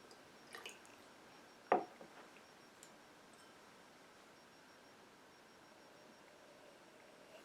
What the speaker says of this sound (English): let's put a little drop of water with it and see what that does